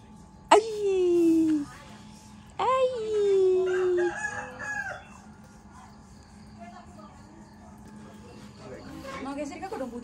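A rooster crows twice nearby, each call loud and drawn out, then chickens cluck faintly at a home in Indonesia while a quiet background hum continues.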